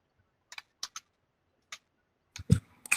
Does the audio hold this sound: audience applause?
no